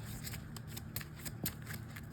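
A deck of trading cards is shuffled by hand for a Lightsworn Runick deck, giving a quiet, soft, rapid run of riffling and sliding taps close by.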